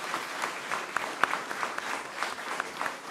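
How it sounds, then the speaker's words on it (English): Audience at a county school board meeting applauding a kindergarten student, steady scattered clapping at moderate volume with a few sharper individual claps. "So let's clap for her"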